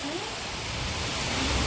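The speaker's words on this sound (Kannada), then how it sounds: "ಮಳೆ ಜೋರಾಗಿ ಬರ್ತಾ ಇದೆ." Heavy rain falling on a rainy day in Madikeri, Coorg, a steady broadband wash that holds even and loud throughout, with no distinct drops or voices standing out.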